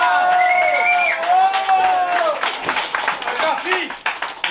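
Audience at an improv comedy club claps and cheers loudly, with whoops and shouting voices rising over a dense, sustained bed of hand clapping.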